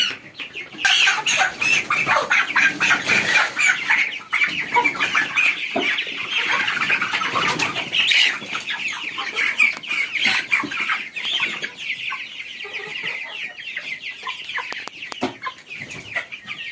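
A flock of 46-day-old Tiger chickens clucks and squawks continuously and loudly up close, with overlapping calls and occasional wing flaps throughout.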